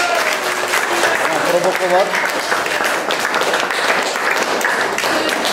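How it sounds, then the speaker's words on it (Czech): Schoolchildren at a prize-giving clap together in a fairly loud, irregular patter lasting several seconds, with an adult voice speaking briefly over the applause. "Tak děti zatleskáme"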